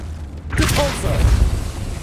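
A Depulso force spell in Hogwarts Legacy on PS5 bursts in with a sudden whooshing crack and a rumbling boom, followed by a rolling low impact, loud and close, with a voice briefly heard among the effects.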